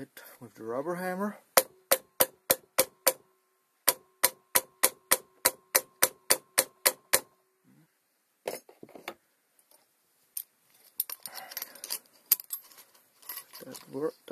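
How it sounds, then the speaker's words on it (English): A rubber hammer strikes a valve spring on a Perkins 4.2 cylinder head from an MF 590 tractor, a rapid series of sharp metallic taps in quick bursts, with brief talk between hits. "Give it a little hit with the rubber hammer."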